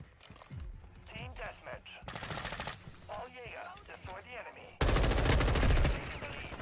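Automatic gunfire from the video game Modern Warfare 2 comes in rapid bursts mixed with other in-game effects, building to a loud, dense burst of sustained fire near the end.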